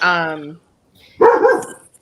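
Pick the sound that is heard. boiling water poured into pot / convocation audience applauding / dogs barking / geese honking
dogs barking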